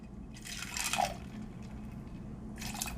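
Fresh lemon juice for a lemon drop martini pours in a short liquid splash near the mic, a brief trickle over a low steady hum, followed by a second quieter splash near the end.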